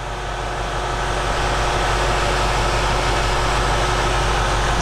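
A 2015 Ford Mustang GT Premium's 5.0 liter Coyote V8 idles with the hood open, a steady low rumble with a fine pulsing texture and broad whooshing noise, constant and loud throughout.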